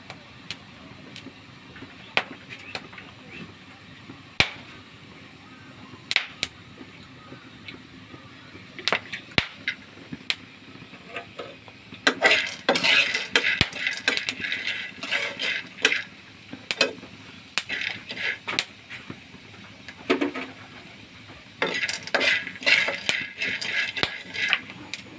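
Corn kernels heat in hot oil and pop in scattered sharp cracks. The pops start sparse, then grow into quick dense clusters over a faint sizzling hiss.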